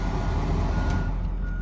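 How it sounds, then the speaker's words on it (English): Reversing beeper on a 2009 Ford F-250 diesel truck, steady repeated high beeps over the idling diesel engine, close by and moderately loud, with no speech. "even got a backup beeper."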